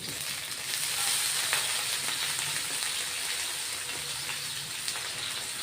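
Stuffed green chillies sizzle and fry on a hot iron tawa after a splash of water, a steady close hiss with faint crackles throughout.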